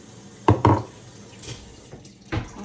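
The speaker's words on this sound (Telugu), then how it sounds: "ఇందులో కొంచెం నేను నీళ్ళు యాడ్ చేస్తున్నాను." Lukewarm water is poured into a vessel in a few short, close splashing bursts: two quick pours in succession, a softer one, then another after a pause, with no voices.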